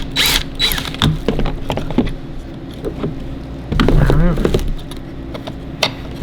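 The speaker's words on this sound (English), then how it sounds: "don't mind me putting a drill on the door" Electric drill driven into a spare Volkswagen Atlas car door, heard as repeated short whirring bursts with mechanical clatter and ratcheting, fairly close and loud, with a brief voice in the background.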